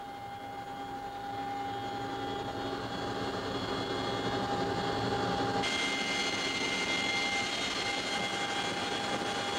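A Chinook helicopter at the 2001 World Games in Akita, Japan, gives off a loud, steady engine and rotor roar that fills the whole stretch without a break and grows slightly stronger partway through, with no talk.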